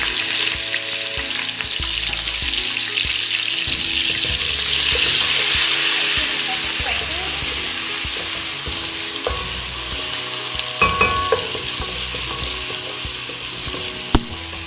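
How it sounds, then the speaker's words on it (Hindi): Steady loud sizzling of onions frying in a pan with ginger-garlic paste, with occasional stirring scrapes and light clinks, no voices. "अब हम इसमें लहसुन अदरक का पेस्ट डालेंगे।"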